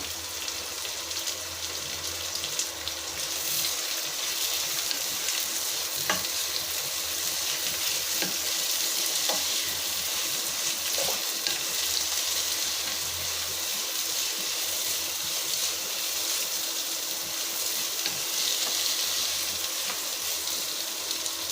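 Vegetable pulao fries in a pan just after mint leaves go in, a continuous bright sizzle with occasional scraping stirs, close and steady throughout without speech.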